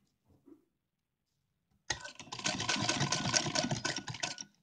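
A sewing machine stitches fabric for a dress for a goddess idol, running in a steady fast mechanical whir with dense rhythmic clicking for a few seconds after a brief quiet pause.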